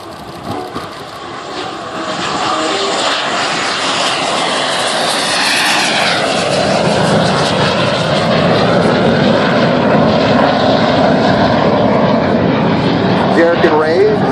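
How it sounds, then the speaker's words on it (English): The Mako Shark jet aircraft's engine roars loudly and steadily as it is repositioned at an air show, swelling after a quieter start and rumbling on under an announcer's voice. "Derek and Ray will now reposition the Mako Shark while preparing for the T-33's aerial routine"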